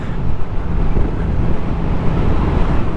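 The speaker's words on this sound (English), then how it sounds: "So yeah, there is wind hitting me" Wind buffets the rider of a Kawasaki ZX4RR sport bike at speed, a loud, continuous low roar of rushing air mixed with road and engine rumble, with no break throughout.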